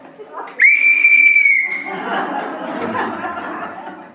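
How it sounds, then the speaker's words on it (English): A school teacher's yard whistle blown once in a single loud, steady, shrill blast lasting about a second, then a room of people chattering and laughing. "She brought me her school teacher's yard whistle."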